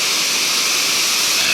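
Tohickon Creek rushing just upstream of a mill, a loud, steady broadband hiss of flowing water with no change or break, close to the microphone.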